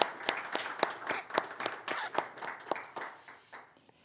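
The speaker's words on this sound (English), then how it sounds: "Yes, extra applause for Christine doing the simultaneous interpretation." Applause from a lecture audience, a steady patter of many hands clapping with sharp individual claps standing out, fairly close and gradually thinning out toward the end.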